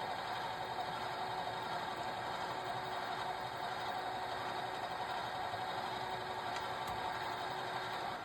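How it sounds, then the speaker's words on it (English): Steady, continuous machine drone of a lathe facing hex brass bar stock, an even hum with a broad midrange whir that runs unbroken from start to finish, close and moderately loud, with no talk over it. "To make a handle for the lid, I first face a piece of hex brass bar stock."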